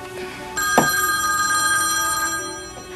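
A telephone bell rings with a continuous metallic trill, fairly loud and close, holding steady for a few seconds before easing off, with no talk over it.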